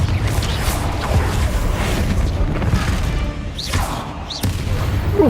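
Spell explosions from Bombarda and Confringo in Hogwarts Legacy, a loud booming blast with rumbling crashes that holds through the stretch, then a sharp impact near the end, with no talk over it.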